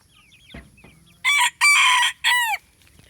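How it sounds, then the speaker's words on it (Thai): Bantam chickens nearby let out three loud, rasping crowing bursts in quick succession, with faint bird chirps in the quiet background. "นี่จะเป็นไก่แจ้นะครับผม"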